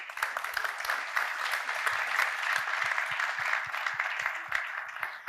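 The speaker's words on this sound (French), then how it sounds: "On peut vous applaudir." A conference audience in a hall applauds steadily for several seconds, dense clapping filling the room at an even level.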